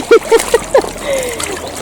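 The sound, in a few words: scooping water from a river into a container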